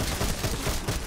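Gunfire from a pistol in Black Ops 6 Zombies on the Liberty Falls map, rapid and dense over a loud, continuous game soundscape with no clear gaps between shots.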